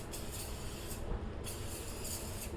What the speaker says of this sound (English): Spray your tins